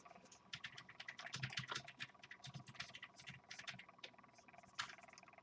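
Rapid, uneven clatter of fingers typing on a computer keyboard, bursts of close keystrokes with brief pauses, fairly faint and heard alone without talk.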